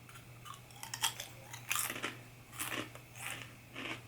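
Japanese butter garlic potato chips bitten and crunched close up, several crisp crunches spaced through the moment with quiet pauses between, no talking.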